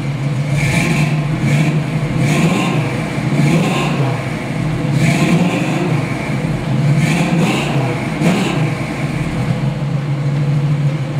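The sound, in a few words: 1969 Chevrolet Camaro RS SS 396 engine driving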